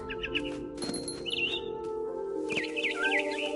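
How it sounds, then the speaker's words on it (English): Bright, twittering barn swallow chirps in short bursts from the video game What Remains of Edith Finch, over a steady electronic hum, with a couple of sharp clicks in between. "Then I heard chirping outside my window."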